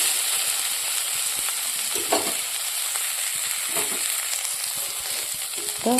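Bitter gourd frying in a pan with onion and green chili for a breakfast dish, a continuous loud sizzle with occasional stirring scrapes and clinks, with no talk.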